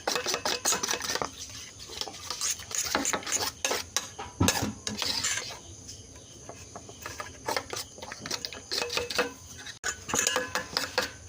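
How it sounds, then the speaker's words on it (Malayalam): A spoon stirs omelette egg mixture with chopped onion in a bowl, making irregular close clinks and scrapes against the dish, with a steady cricket-like chirping underneath. "ഇനി നല്ലപോലെ ഒന്ന് ഇളക്കി കൊടുക്കാം."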